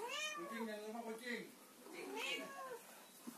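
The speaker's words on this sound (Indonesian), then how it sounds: "Ada kucing juga." A cat meows repeatedly at a toy collector's shop, with drawn-out, wavering cries close to the microphone and brief gaps between them.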